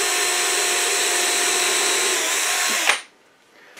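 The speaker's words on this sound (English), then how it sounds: "And drill one over here." A power drill pre-drills a hole in wood for a bluebird house, a loud steady whine for nearly three seconds before stopping abruptly, leaving quiet room tone and a small clunk at the end.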